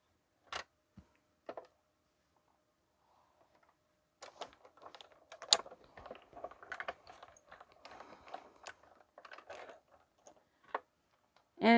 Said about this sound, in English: So I'm going to cut the bowl out now.